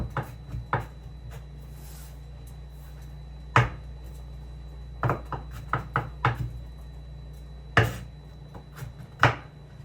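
A knife chops garlic on a cutting board for Jamaican stew beef, giving sharp, irregular knocks in quick clusters with short pauses between them, close and fairly quiet.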